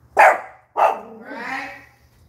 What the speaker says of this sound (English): Now her dog's barking.